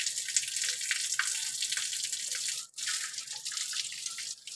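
Water splashing and dripping while animals are bathed, a steady close spatter with faint drips and one brief pause.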